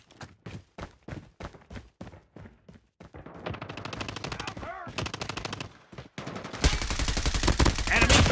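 Team deathmatch gunfire in the Call of Duty Mobile video game opens with evenly spaced single shots and builds into dense, rapid automatic bursts from several weapons, loud and close.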